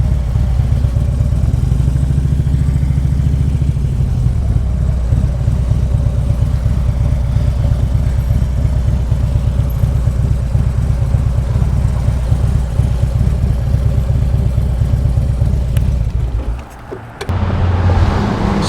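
A motorcycle engine runs steadily nearby at a roadside stop by an Anglican church, a continuous low rumble that holds even for most of the stretch, then briefly dips and returns near the end.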